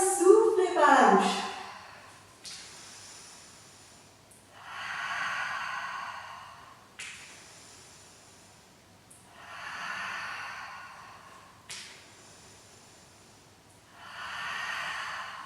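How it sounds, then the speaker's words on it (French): Breathy exhalations through the mouth during an intermediate Pilates exercise, soft airy puffs repeating about every two to three seconds, near and quiet, with a brief voice at the start. "soufflez par la bouche"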